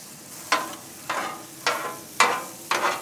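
Bacon and sausage on a Blackstone 22-inch XL griddle give five evenly spaced bursts of sizzling and scraping, each flaring up then fading, over a quiet background with no talking.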